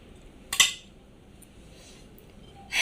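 Cutlery clinking against a plate while eating shrimp and bottle gourd curry, two brief metallic scrapes near the start and end with quiet pauses between.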